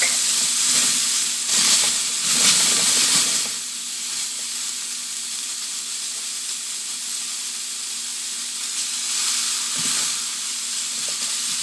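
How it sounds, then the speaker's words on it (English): Vegetables sauté in a large non-stick copper sauté pan with a steady, close hiss. A louder, busier sizzle of stirring comes in the first few seconds, then settles into an even, continuous fry. "But I like to saute my vegetables."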